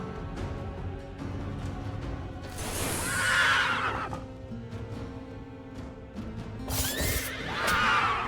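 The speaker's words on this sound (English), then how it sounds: "Horses are, or the unicorns are really loud." Unicorns in the fantasy strategy game Master of Magic neigh loudly, two shrill whinnies rising over a busy backdrop of game music and battle noise, the first near the three-second mark and a second near the end.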